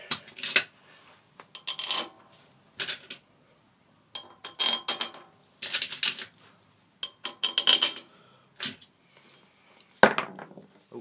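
Metal head bolts clink and rattle while being fitted into the cylinder head of an OHV Briggs engine, with bursts of sharp metallic tapping and a louder clattering drop near the end, close by.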